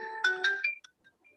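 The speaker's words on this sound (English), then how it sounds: "Sorry, I have a phone call." A mobile phone ringtone goes off during an online academic conference, a bright repeating electronic melody of a few quick notes that plays clearly and then cuts off into near silence.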